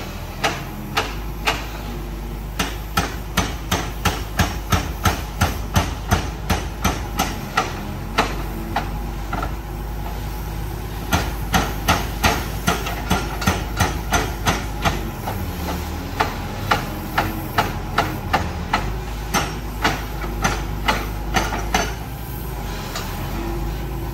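Excavator fitted with a hydraulic breaker hammer demolishing a brick temple tower, with loud, rapid, regular pounding blows in long bursts, a brief pause between them and a steady mechanical rumble underneath.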